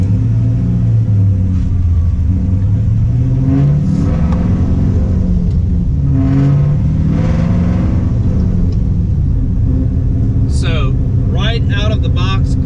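A 2010-2015 Camaro SS fitted with a KraftWerks supercharger drives on the road, its engine note rising and falling through gentle revs, with someone talking over the steady rumble.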